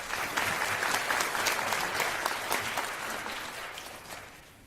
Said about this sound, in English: Please once again give him a big round of applause.